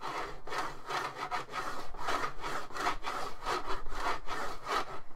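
A PS2 Fanatec Gameboard mouse scrapes back and forth over a textured plastic surface, giving a steady run of close, rhythmic hard-plastic rasps with no talking.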